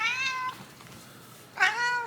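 A house cat meows twice, a clear drawn-out call at the start and another about a second and a half later, close and loud with quiet room tone between.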